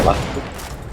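A rapid burst of gunfire in the Roblox game DARKDIVERS, fighting an alien swarm, rattles loud and close for under a second, with a voice talking over it.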